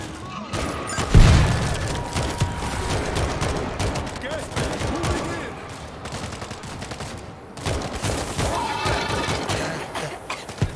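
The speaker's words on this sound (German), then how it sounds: "da werfe ich mal eine Granate hin" Gunfire and a heavy grenade blast in the zombie shooter World War Z, with a deep boom early on followed by sustained, dense rapid shots and clattering combat noise throughout.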